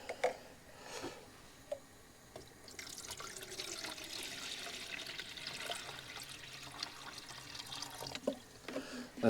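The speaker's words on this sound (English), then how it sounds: "So I'm just going to boil up some water just now." Water runs from a tap to be boiled for pasta at a campsite, with a steady rushing flow for several seconds between a few knocks and clunks, close and moderately loud.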